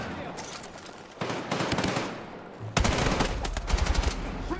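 Bursts of rapid automatic gunfire from a Battlefield shooter game, loud and sustained in two stretches with a brief lull between.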